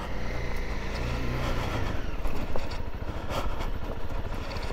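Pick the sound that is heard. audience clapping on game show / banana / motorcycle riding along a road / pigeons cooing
motorcycle riding along a road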